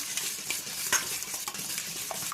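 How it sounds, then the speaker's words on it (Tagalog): Four eggs beaten by hand for bibingka batter, a steady fast whisking and stirring with light clinks of utensil against the bowl, close and continuous with no talk. "I-beat lang po muna natin yung ating egg. Beat lang po natin mabuti."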